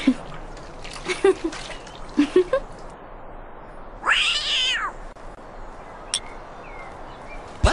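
Cat meowing in the Mulan animated storybook computer game from 1998, one clear mid-length meow standing out after scattered soft clicks and taps, fairly close and alone.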